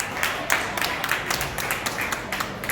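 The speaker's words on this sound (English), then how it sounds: "Everyone, will you please give another round of applause for our chefs of today." Audience applause for the chefs at the end of a Rotaract cooking class in Pakistan, a steady mid-level patter of many hands clapping that continues for a few seconds with small rising bursts.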